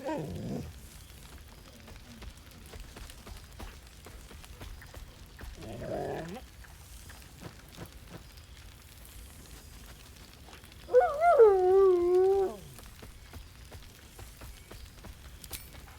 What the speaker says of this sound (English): Scratch barks merrily in something like agreement. He whines.